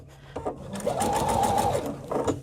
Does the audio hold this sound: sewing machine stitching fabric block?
yes